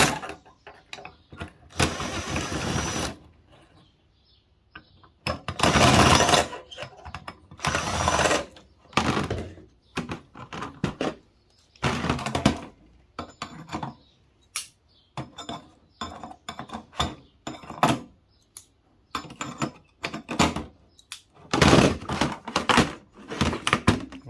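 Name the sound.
removing screws from a circuit board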